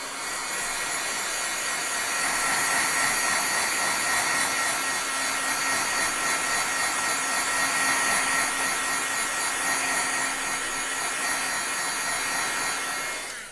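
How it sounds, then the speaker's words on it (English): A heat tool blows steadily to dry freshly stamped ink on a card, a continuous even whir with a faint hum, close and alone for the whole stretch. "I'm going to very quickly hit it with the heat tool"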